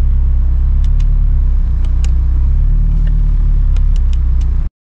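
Honda Civic Type R with an all-wheel-drive conversion, driving on the road: a steady, loud low engine and road rumble runs without a break, with a few brief ticks and clicks on top, then cuts off abruptly near the end.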